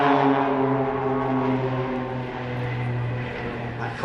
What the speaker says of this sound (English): The aircraft's built by Walter Extra GmbH at Dinslock, and in crazy formation.